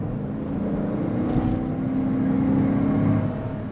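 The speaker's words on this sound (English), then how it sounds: "let me try and floor it for you guys to hear it one more time" A 2020 GMC Yukon SLT, a large SUV, accelerates at full throttle with a steady, loud engine drone that rises in pitch and holds throughout, heard from inside the cabin.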